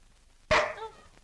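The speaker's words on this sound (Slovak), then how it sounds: "To nič, to je môj pes." A dog gives a single sharp, close bark that trails off briefly in an otherwise quiet indoor scene.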